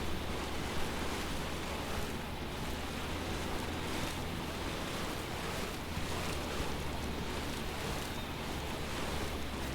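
Water hose filling a tank in the farming video game Lightyear Frontier, heard as a steady, unbroken rushing hiss of flowing water that holds at an even level throughout, with no talk over it.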